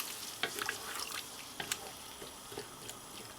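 Potatoes simmer in a spiced masala after a glass of water is added, giving a soft sizzle with scattered bubbling pops and small clinks, all quiet and without talk.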